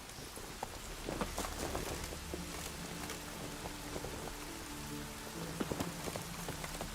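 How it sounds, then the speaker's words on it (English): Heavy rain in a video game, a dense constant patter of drops hitting surfaces at steady loudness, with a few sharper taps standing out and no talking. "Raining fucking buckets."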